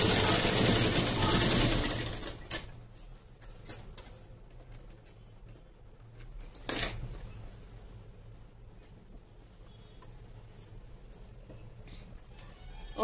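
An electric sewing machine runs in a fast loud burst while stitching a blouse neckline, then stops, leaving small clicks and handling sounds in a quieter room.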